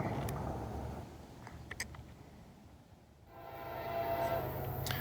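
A southbound CSX freight train rolls past, a horn blaring in short bursts over the rumble of railcars, the sound dipping briefly before the steady roar of the wagons swells up close.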